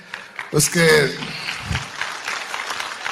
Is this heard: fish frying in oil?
no